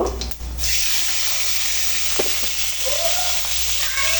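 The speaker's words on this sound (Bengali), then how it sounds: "আমি এক ফাস্ট জিরা ফোড়ন দিয়ে নিব তারপরে কাঁচামরিচ দিয়ে নেব" Cumin seeds and green chilies hit hot oil in a pan, setting off a loud, steady, close sizzle that holds evenly throughout with no voices.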